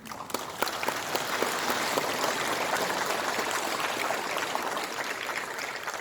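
Sustained applause from an audience at a banking programme event in Nagaland, steady dense clapping that fills the whole stretch at an even level without pause.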